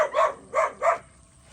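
A dog barks three times in quick succession at close range, followed by quiet.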